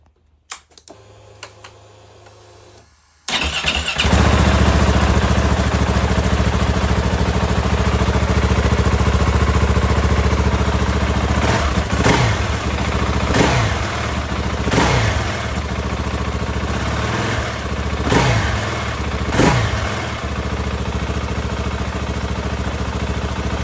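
After a few quiet clicks, a KTM 690 SMC R supermoto engine fires up and idles loudly close by, with several sharp throttle blips rising and falling in pitch.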